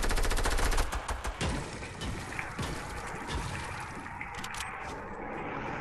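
Gunfire in the video game Fortnite: a rapid automatic burst opens loud and close, followed by scattered sharper shots and a rattling, mechanical game soundscape, with no talk.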